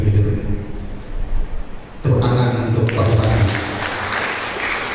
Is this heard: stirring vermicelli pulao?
no